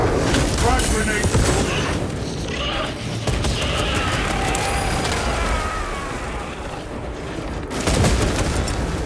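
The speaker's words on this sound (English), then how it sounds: "Frag grenade." A frag grenade blast in Warhammer 40,000: Space Marine 2, with heavy rumbling booms and battle noise sustained throughout and a fresh burst near the end, under speech.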